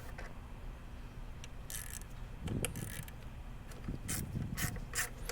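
Front fender bolts being unscrewed on a 2017 Honda Rebel 500 motorcycle, Loctite on the threads, faint rapid ratchet clicking in short bursts over a low background hum.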